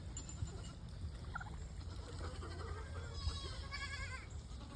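Goats and sheep on a farm bleat several times during morning chores, the calls fairly faint and scattered over a steady outdoor background, with no clear speech.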